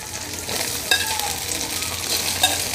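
Soaked flattened rice (chira) stirred gently in a frying pan, producing a steady close sizzle with soft scraping stirs and a couple of faint utensil clinks, no talking.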